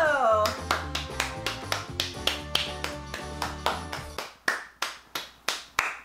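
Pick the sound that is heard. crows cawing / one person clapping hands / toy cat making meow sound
one person clapping hands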